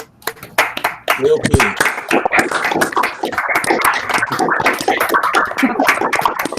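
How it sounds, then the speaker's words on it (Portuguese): Participants of an online statistics seminar unmute their microphones to applaud the professor, giving a dense, uneven burst of clapping from many sources at once, with voices talking over it. "A gente gostaria de que todo mundo ligue o microfone para bater palmas aí, para agradecer ao professor um instante aí."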